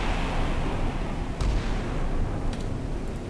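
Missiles launch in the naval video game Sea Power, a dense continuous roaring rush with a couple of brief sharper cracks, loud and unbroken throughout without any voices.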